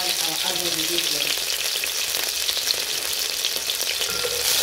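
Chicken gizzards fry in a pan for a stew, a loud, steady sizzle with crackling that stays constant from start to finish, with no talking.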